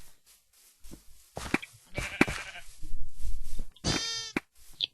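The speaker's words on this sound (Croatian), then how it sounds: "Okej, evo je ovca" Sheep in a Minecraft game bleat several times in short, nasal calls, with a long wavering bleat near the end, mixed with game footstep sounds and a brief voice.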